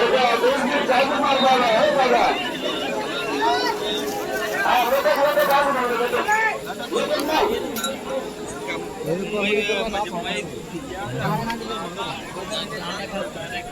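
A dense crowd gathers at Pinakeshwar Mahadev temple on a Shravan Monday, a constant close babble of many voices with occasional light metallic clinks mixed in.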